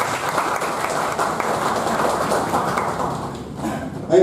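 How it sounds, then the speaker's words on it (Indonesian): Audience applause at an Indonesian arts event about Diponegoro in visual art, a dense steady patter of clapping that holds evenly, dips slightly near the end, then swells briefly again. "Tepuk tangan untuk beliau."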